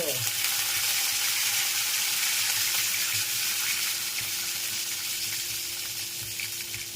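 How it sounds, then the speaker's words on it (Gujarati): Hot oil crackles and sizzles steadily in a pan while bitter gourd curry is being cooked, a dense, continuous frying hiss that fades slightly toward the end. "તેલની કતડાટી ગોલી રહી છે ભાઈ"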